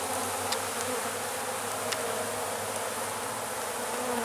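Steady, dense buzzing of many honeybees close by at their hives in February, continuous throughout with a few sharper passes near the microphone.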